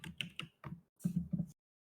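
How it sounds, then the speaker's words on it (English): A handful of light, quick keystrokes tap on a computer keyboard in two short bursts separated by a brief pause, close and fairly quiet, then stop. "I was typing as lightly as I could"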